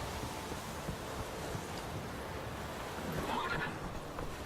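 Roach, the horse in The Witcher game, gives a clear neigh a little past midway, heard over soft wind and rustling outdoors.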